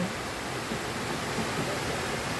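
Steady broadband rush of Pha Charoen waterfall in Phop Phra, Tak, flowing continuously and evenly at close range with no voices over it.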